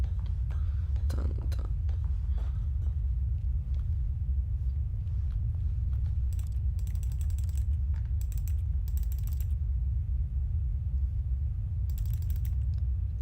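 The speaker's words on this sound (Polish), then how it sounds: "Jak naciskam myszką, to są dźwięki z klawiatury." Clicking the mouse in The Stanley Parable produces clattery computer-keyboard typing sounds, scattered key taps over a low steady room rumble, growing denser in short bursts toward the end.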